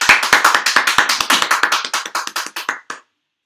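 A church congregation claps together in praise, a dense run of hand claps that starts full and gradually thins out toward a stop, with no talking over it.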